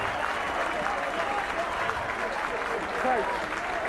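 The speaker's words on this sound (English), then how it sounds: "And a nice round of applause for Tom Collis." Spectators applaud steadily at a schools rugby cup final between St Michael's and Clongowes, a dense sustained round of clapping with crowd voices mixed in.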